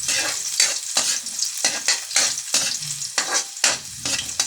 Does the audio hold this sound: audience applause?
no